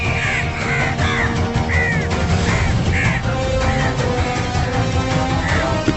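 Crows caw repeatedly in the air over the African savannah, harsh calls coming every half second or so over a dense rumbling background.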